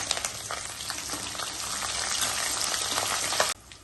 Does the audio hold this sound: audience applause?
no